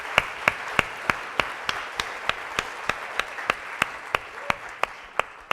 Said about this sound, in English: Let's give them all a great round of applause.